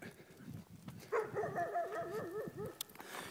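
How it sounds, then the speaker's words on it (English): An aggressive dog gives a rough, drawn-out growling bark over low snarling and scuffling, heard fairly close but at moderate level. "Shayna actually is the most aggressive dog that I've ever worked with."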